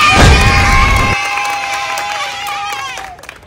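A game-show audience bursts into applause and cheering, loud and dense for about a second before fading into lingering whoops and scattered claps.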